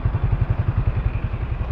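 A Yamaha Sniper 155 motorcycle, two years and two months old, idles near the muffler with a steady, rapid low thumping pulse, loud and close, with no talk over it.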